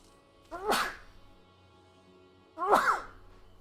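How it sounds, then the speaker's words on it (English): A person sneezes twice, each a sharp, close, explosive burst separated by about two seconds of near quiet. "And I'm about to sneeze"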